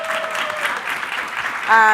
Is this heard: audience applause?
yes